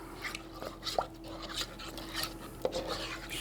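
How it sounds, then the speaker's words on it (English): A spoon stirs apple cider and pumpkin butter ingredients in a small bowl, giving soft scraping swirls with a couple of light clinks against the side, quiet and close. "Stir this around"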